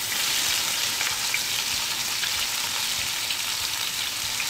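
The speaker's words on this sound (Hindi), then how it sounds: "और अब मैं घी के अंदर डाल रही हूँ प्याज" Onions frying in hot ghee for a village-style bhindi gosht sound like a steady, loud, close sizzle that keeps going without a break, with no voices over it.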